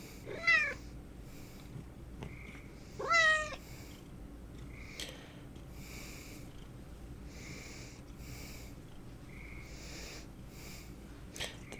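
A cat gives two short meows a few seconds apart, then quieter snuffling and breathing sounds close by in a calm indoor room.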